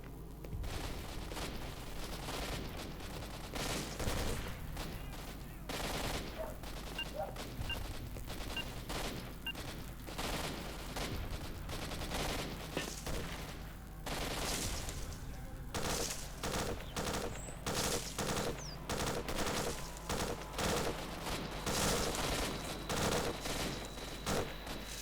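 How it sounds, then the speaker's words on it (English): Sustained gunfire in the video game S.T.A.L.K.E.R.: Shadow of Chernobyl, with dense bursts of automatic shots and scattered single cracks, some close and loud and others farther off, continuing without pause for the whole stretch. "there is an awful lot of gunfire going on around near me"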